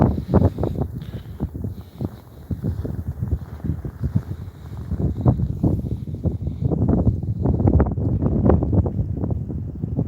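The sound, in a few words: wind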